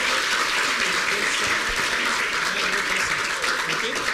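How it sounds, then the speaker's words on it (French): Sustained applause from an audience honoring a trophy winner at an awards ceremony, dense steady clapping throughout with a faint voice underneath. "On te félicite, on t'applaudit, bravo"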